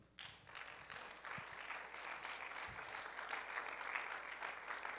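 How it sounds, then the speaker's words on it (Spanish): A church congregation breaks into applause during a sermon on Psalm 26, a faint, steady patter of many hands that rises quickly and holds evenly, heard from a distance with no talking over it. "¿Puede darle un aplauso al Señor?"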